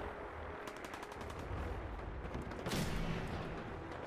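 Fallout 4 gunfire comes as rapid, repeated bursts of automatic shots, and a heavier blast lands near the end. The shooting is steady and fairly loud over a noisy combat background.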